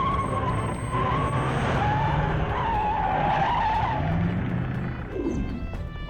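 A car skids hard during a chase, a loud sustained tire screech lasting several seconds that wavers in pitch before tapering off near the end, with no talk over it.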